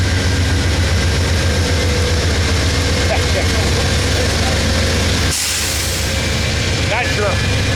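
An Amtrak train pulls out of Fullerton station, a loud, steady low diesel engine drone close by that continues throughout, shifting slightly partway through.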